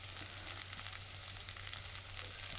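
Oil sizzles and crackles steadily as a tempering of spices fries for a leftover cooked rice dish, close and continuous with no talk.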